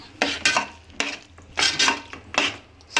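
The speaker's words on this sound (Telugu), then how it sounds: "అంతా ఇట్లా కలుపుకోవాలి" Tomato chutney, tamata pachadi, being mixed by hand in a pot: repeated wet scraping and clattering strokes against the metal, about six distinct bursts in an uneven rhythm, close and fairly loud.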